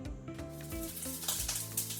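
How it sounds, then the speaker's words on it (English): Water flicked onto hot butter in a frying pan sets off a brief, soft sizzle that crackles under other steady tonal sounds. "If it bubbles up and makes a sizzling sound, then I know it's ready"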